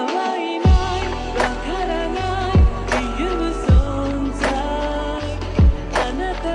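A sampled anime-song track gets a dirty lo-fi treatment, looping with heavy thumping bass kicks every second or so under layered, gritty melodic chords, played loud and unbroken without any voice.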